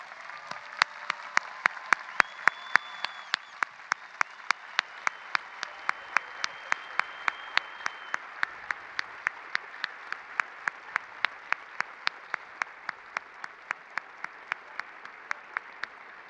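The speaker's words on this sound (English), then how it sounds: "Let's please give them a round of applause" Applause at a high school commencement ceremony, a broad crowd of clapping hands with sharp, regularly spaced loud claps standing out near the microphone, continuing steadily throughout.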